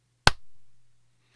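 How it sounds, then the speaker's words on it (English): A single sharp clap from a group of people syncing their recordings, close and crisp, followed by a short fading tail in an otherwise quiet room. "We should do a clap real quick here."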